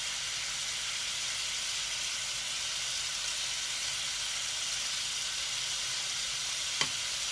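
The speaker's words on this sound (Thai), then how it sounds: "ใส่กับเนยผัดเนยใส่กับกระเทียมแล้ว" Butter and garlic sizzle steadily in a frying pan, a constant soft hiss throughout with one brief sharp click near the end.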